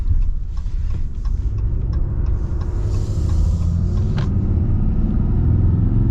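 A 2023 Ram 2500 Laramie pickup truck engine rumbles loudly and climbs in pitch as it revs up under full acceleration, with faint clicks and a brief hiss early on, no talking.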